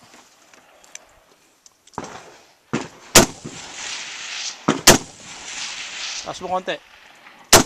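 Sharp gunshots from an airsoft or toy gun game fire a few times at intervals, with a quick double burst near the end, loud and close, while people talk and coach over them.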